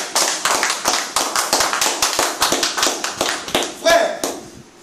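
A church congregation claps together in praise of Jesus, sharp and loud, with a steady rhythm of many hands and a voice heard partway through.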